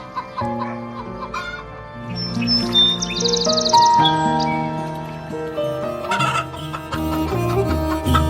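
Hens in an animated folk tale cluck repeatedly and insistently against a busy musical background, the calls rising and falling in quick bursts.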